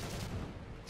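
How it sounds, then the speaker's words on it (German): A tank's main cannon fires in the War Thunder video game, a single loud, heavy boom with a rumbling tail that fills the whole short moment. "Sehr schöner Schuss."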